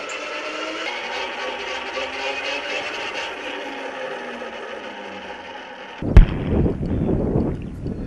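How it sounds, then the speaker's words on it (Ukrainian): A controlled explosion destroying 152 mm artillery shells lands as a single sharp, loud blast followed by a rumbling roll, after a steady mechanical drone; no voices. "Фахівці піротехніки шляхом контрольованого вибуху знищили смертельні боєприпаси"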